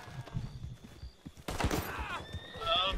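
A horse in Red Dead Redemption 2 gives a short whinny near the end, following clattering game sounds, while people talk over the game audio.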